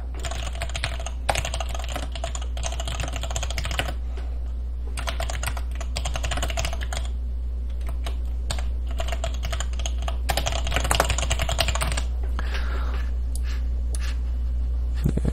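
Steady computer keyboard typing while writing a document in Polaris Office 2015, with rapid key clicks coming in bursts separated by short pauses. It sounds close and moderately loud, with no talking.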